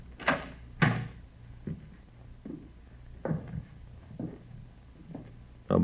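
Door being tried and opened in an old radio crime drama, with a series of separate knocks, rattles and latch clunks spaced about half a second apart, ending in a louder thump.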